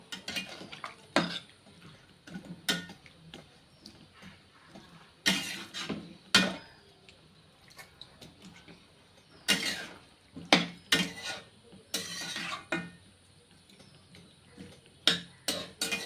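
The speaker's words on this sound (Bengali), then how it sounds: "জল দিয়ে ভালো করে নাড়িয়ে দেবো" A utensil stirs chicken kosha curry after water is added to the pot, giving scattered sharp clinks and scrapes against the metal with quiet pauses between them.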